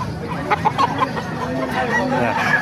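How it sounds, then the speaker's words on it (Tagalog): Pumpkin Sweater chickens clucking close by in a hatch setting, soft repeated clucks and calls over a steady background, with some indistinct voices mixed in. "Magandang pumpkin sweater ito"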